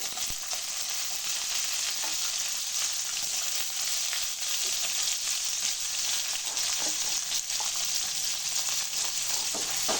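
Lentils and onions frying in a pan for a ragi semiya breakfast dish, giving a steady, close sizzle with faint stirring scrapes throughout and no talking.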